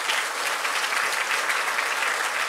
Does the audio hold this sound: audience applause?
yes